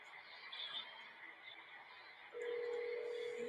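A telephone call being placed: faint, quiet keypad tones in the first half, then a steady sustained tone sets in and holds to the end, with muffled background sound.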